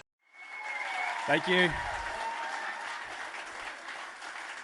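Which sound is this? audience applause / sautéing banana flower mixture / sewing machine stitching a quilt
audience applause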